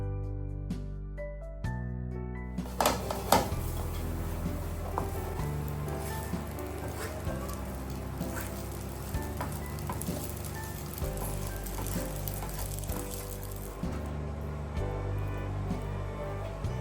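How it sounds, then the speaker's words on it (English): Spaghetti is stirred in a pan of sizzling tomato jollof sauce, with a loud, steady frying hiss broken by irregular scraping and clinking from the spoon. No one speaks over it. "I'll now go ahead to add the spaghetti. Okay, then we stir it until it's well combined."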